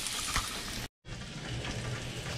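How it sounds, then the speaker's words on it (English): Bacon sizzles and crackles steadily in a frying pan, a dense, close hiss with one abrupt silent break before the frying resumes. "A nice little pile of bacon started."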